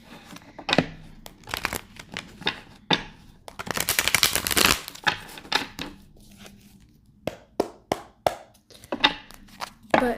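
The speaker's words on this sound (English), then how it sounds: "I still need to shuffle this deck a lot better." A deck of cards is shuffled close up: scattered crisp flicks and taps, then a dense, rattling riffle burst in the middle, followed by more light card snaps. No one speaks.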